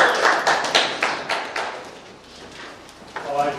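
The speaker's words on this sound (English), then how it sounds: "Big clap for Lorna." An audience at an information day claps briefly, a short burst of hand claps up close that fades after a couple of seconds, with a voice speaking over it.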